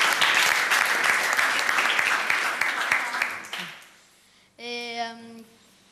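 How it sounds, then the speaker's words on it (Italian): Crowd applause in an Italian youth football television segment, loud and dense for about three seconds before fading out, followed by a brief tonal sound or voice. "facciamo un applauso a Emanuele Pesoli"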